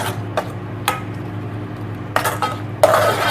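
A spoon scrapes and clinks against a cooking pot while Achar Gosht curry, with curry leaves and salt, is stirred; several sharp metallic knocks come at irregular intervals over a low steady hum.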